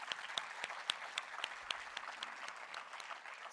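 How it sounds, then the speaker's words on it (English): An audience claps for jury members at a university event, a steady patter of applause with a few sharp, distinct hand claps standing out near the front. "So a huge round of applause to all our jury members."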